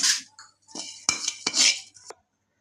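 Metal utensils clink and scrape against pots as fried poha chivda is shifted into another vessel after the gas is switched off, a few sharp close clatters separated by short pauses.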